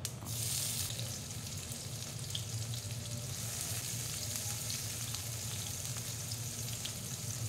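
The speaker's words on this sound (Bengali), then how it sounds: "এরপর কুচিয়ে রাখা পেঁয়াজগুলি দিয়ে দেব।" Chopped onions hit hot oil already holding a small cardamom pod, a bay leaf and whole cumin, giving a steady, close sizzle and crackle that runs unbroken throughout with no voices.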